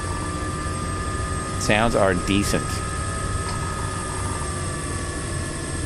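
Bell 66 helicopter in Microsoft Flight Simulator 2024, started up on the ground in Monument Valley, its engine giving a steady, even whine and drone throughout while someone speaks briefly over it.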